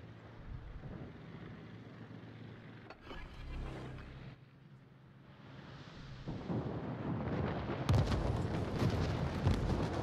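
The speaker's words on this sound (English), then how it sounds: "Cruiser torpedoes. Which I managed to dodge." Cruiser torpedoes fire in a space battle video game, a deep rumbling boom swelling and fading in the middle, followed by a denser, louder barrage of blasts, with no voices.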